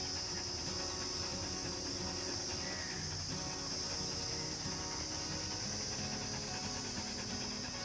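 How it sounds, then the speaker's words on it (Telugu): A steady, continuous chorus of insects chirps outdoors, high and shrill, with no voices and little else around it. "ఈ కీటకాల శబ్దం అదే పురుగు శబ్దం అయితే బాగా వస్తుంది"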